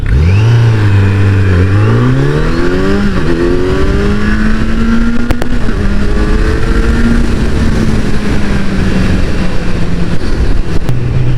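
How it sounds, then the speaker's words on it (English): A Kawasaki Z streetfighter motorcycle accelerates hard from a standstill, its engine note climbing steadily through the gears, loud and close, with one brief gear-change dip before it settles into a sustained high-revving drone. "now let's see how this vehicle can accelerate"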